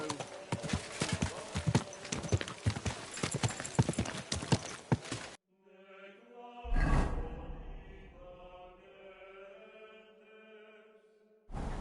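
Rapid hooves clatter in a galloping rhythm for several seconds in Kingdom Come: Deliverance, then stop abruptly; a horse snorts and whinnies, followed by a quieter, tonal passage.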